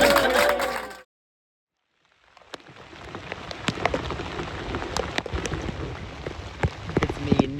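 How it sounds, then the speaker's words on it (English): Rain falls outdoors on a farm in summer, a close, steady patter with sharp individual drops striking surfaces. It rises out of a second of silence after a brief burst of singing. "out in the rain"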